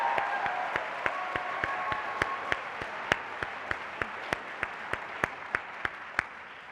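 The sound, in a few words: audience applause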